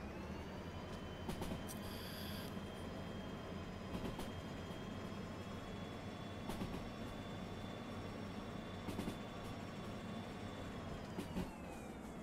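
Locomotive in the train game Derail Valley rolling steadily on rails, a continuous low rumble of wheels and track with a sustained tonal whine and occasional brief clicks and squeals, loud and close throughout with no talk.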